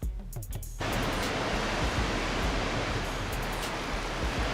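Rushing waterfall in Farming Simulator 22, a steady dense roar of falling water with a few short crackly bits at the very start, then a constant full wash that stays loud and unbroken throughout.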